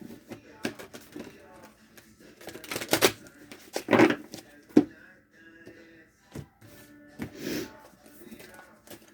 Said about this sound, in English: I have a hard time with these new cards, shuffling them.